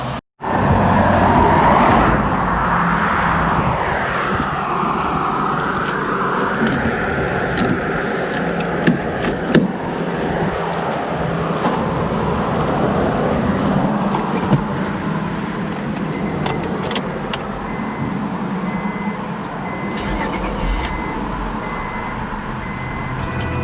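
A car is driven around to the back of a property, its engine running steadily and close by with road and vehicle noise throughout and occasional clicks and knocks.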